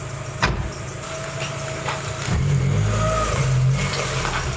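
Mazda MX-5 Miata on a drive, its engine droning close by and then revving up to a louder, fuller growl partway through, with no talking.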